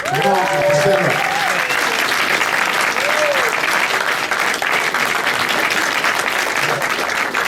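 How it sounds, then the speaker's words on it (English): Sustained, dense audience applause at a horror short-film masterclass, loud and steady throughout, with a few voices calling out over the clapping. "a round of applause for Brad. Mark and Sarah."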